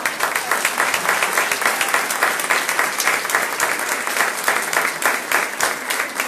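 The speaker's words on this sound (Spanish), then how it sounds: "Renovamos por favor el aplauso" A crowd applauds at the inauguration of a kindergarten annex, a loud, dense burst of many hands clapping steadily for several seconds, close and continuous.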